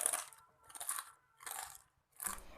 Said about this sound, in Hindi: मैं इसे खा के भी बता रही हूँ, आप आवाज़ सुन के समझ जाएंगे कितना ज़्यादा कुरकुरा सा है